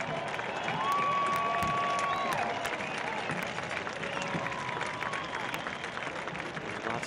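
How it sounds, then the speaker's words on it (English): Stadium crowd applauds a football substitution as one player leaves and another comes on, a broad steady wash of clapping and crowd noise throughout with a faint tone drifting over it. "A nice round of applause"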